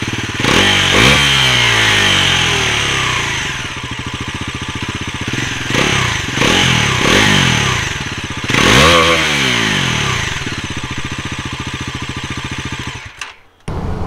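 A 2025 Bajaj Pulsar NS400Z, a 400cc motorcycle, revving hard several times from a throbbing idle, with loud, close exhaust bursts rising and falling before the engine cuts near the end.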